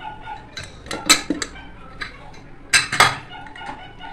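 Pressure cooker lid being opened and a pot of beef curry handled, giving several sharp metallic clanks and clinks of lid and cookware in a quiet kitchen, with softer scrapes between the louder hits.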